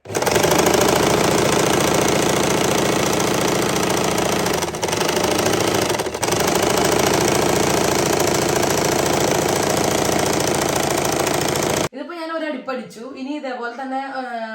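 A sewing machine runs steadily and loudly while stitching the seam of palazzo pants, a continuous mechanical drone for about twelve seconds before it stops and a voice speaks.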